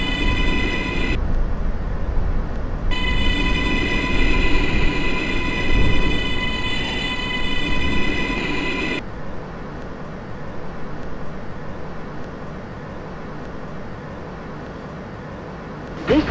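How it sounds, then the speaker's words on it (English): A Brooklyn-bound J subway train running in the OpenBVE train simulator game, a steady loud rumble of rolling wheels with tonal motor whine that cuts out partway, leaving a quieter running noise to the end. "This is a Brooklyn-bound J train"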